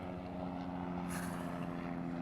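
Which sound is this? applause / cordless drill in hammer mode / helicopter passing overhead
helicopter passing overhead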